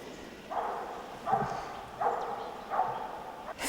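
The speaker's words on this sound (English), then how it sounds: "There's a dog." A hunting dog barks during a boar hunt in Sibiu, Romania, with about four loud, spaced bursts recurring roughly every 0.7 seconds outdoors.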